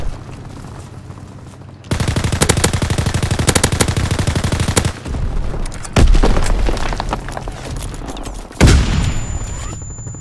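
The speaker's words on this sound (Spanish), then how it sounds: "¡Me están disparando!" Loud sustained machine-gun bursts rattle in a WW2 shooter game, a long rapid volley followed by heavier booming blasts and a final explosion, all close and dominant.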